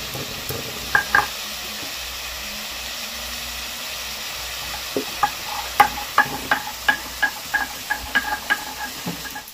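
Potato and papaya fry in a pan with a steady low sizzle, punctuated by a run of sharp clinks and scrapes from stirring, close and fairly loud with no talking.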